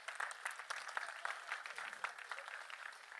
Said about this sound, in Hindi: मैं चाहता हूं गुलशन कुमार जी की स्मृति के लिए एक बार ये पूरा थिएटर तालियां बजा दे।